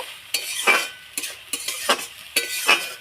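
Potatoes frying in a pan are stirred with a utensil in quick, rhythmic scraping strokes over a soft sizzle, several distinct strokes close up.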